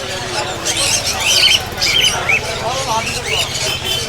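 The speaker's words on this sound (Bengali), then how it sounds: "পাখির হাটে আসলে বুঝতে পারবেন আপনারা যে কতটুকু কিচিমিচি" Many small birds chirp and twitter at a large bird market in Mirpur 1, Dhaka, their thin, overlapping calls running steadily through a busy crowd murmur.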